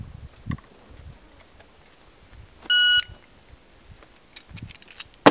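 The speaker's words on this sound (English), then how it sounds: "I highly recommend that you invest in a good shot timer." A shot timer gives a single sharp electronic start beep of about half a second, loud against quiet surroundings, during a dry-fire magazine reload drill with a Sig P238.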